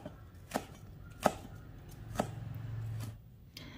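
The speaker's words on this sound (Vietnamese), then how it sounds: "các cọng hành lá thì mình sẽ sắc nhỏ nhỏ ra luôn" A knife chops green onion stalks on a board for a home Vietnamese soup, a few crisp separate knocks at an uneven pace, close and quiet.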